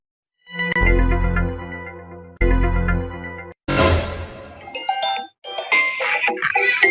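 A phone's electronic ringtone plays loudly in repeating melodic bursts, then shifts into a busier chiming tune, with no voices.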